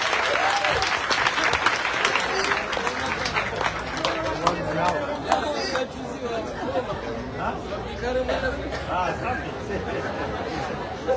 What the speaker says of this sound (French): tout un tonnerre d'applaudissements pour notre cher DG de l'Institut entrepreneurial de Comores